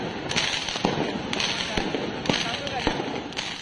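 Firecrackers go off during a street brawl between two groups of residents at Pasar Gembrong, Jatinegara, with several sharp bangs over loud crowd noise and chaotic shouting.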